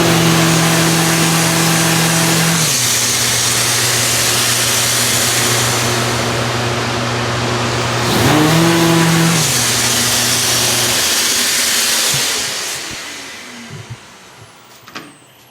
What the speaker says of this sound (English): Every time I turn on my sander, it automatically turns on that vacuum down there.